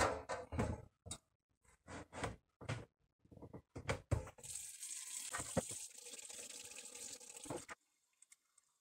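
Hot water runs from a tap into a sink during homemade Emmental cheese making, a steady gushing stream of several seconds after a series of knocks and clatters of utensils.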